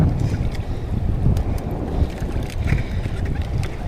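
Heavy, blustery wind roars steadily into the microphone over churning water, with low rumbling buffeting throughout and no pauses.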